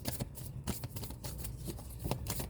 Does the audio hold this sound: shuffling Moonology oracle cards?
yes